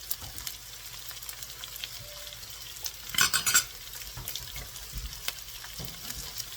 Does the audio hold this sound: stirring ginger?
yes